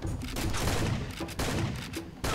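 Enemy gunfire in the Far Cry 2 video game, a loud, dense burst of shots with brief pauses between volleys, no talking.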